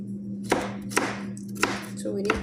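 Four sharp knife chops on a cutting board, spaced unevenly about half a second apart, close and distinct over a low steady hum, as an ingredient for a coconut milk chicken breast dish is cut into small pieces.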